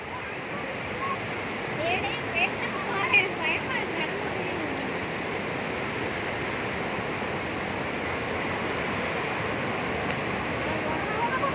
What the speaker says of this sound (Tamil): இவ்வளோ பெரிய ஃபால்ஸ் பாரு.